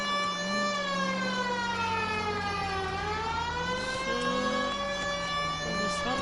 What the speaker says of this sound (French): On va mettre les sirènes.